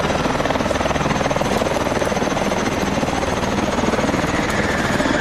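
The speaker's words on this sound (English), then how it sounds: "Raptor 2-3, coming in to assist. There's our exfil. Get to the warbird, Mitchell!" A warbird aircraft in Call of Duty: Advanced Warfare arrives for extraction with loud, close, continuous rotor thumping and engine roar, a dense rhythmic chop filling the whole stretch with no talk.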